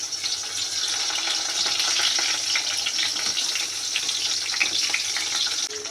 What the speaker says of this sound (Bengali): এই তেলে দিয়ে দিব পটল, কয়েকটা পটল, কয়েকটা মিষ্টি কুমড়া একসাথে ভেজে নেব